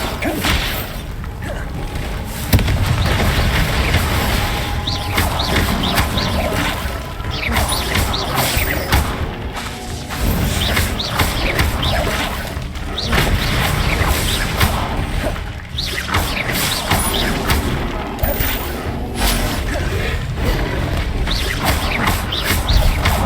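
Spell explosions from Bombarda and Confringo in the Hogwarts Legacy video game, in a dense, continuous run of crashing, booming impacts and mechanical clatter. They stay loud and close throughout, with a few brief dips.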